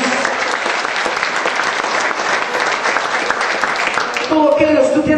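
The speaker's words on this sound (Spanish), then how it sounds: "Dale palmas al Señor Jesús." A church congregation claps loudly and steadily in praise, a dense wash of applause filling the room before it tapers and a voice begins to come through near the end.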